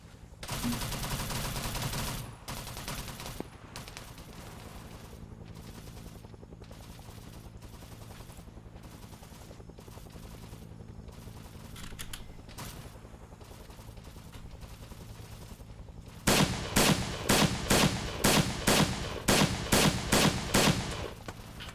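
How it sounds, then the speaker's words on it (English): Machine gun fire in the video game Arma 3, a Vietnam-era battle scenario: rapid bursts of loud automatic shots rip near the start and again in a sustained rhythmic stretch at the end, with quieter scattered gunfire in between. "the machine gun should be doing its own thing now, because it has ammunition now"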